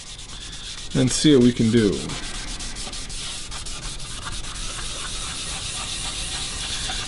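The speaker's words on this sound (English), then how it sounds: "once we sand this color off, we'll probably use 320 as well." Sandpaper rubs steadily across a guitar top, stripping off brown leather dye in a continuous gritty hiss, with a brief burst of louder, rougher scrubbing near the start and a short spoken phrase over it.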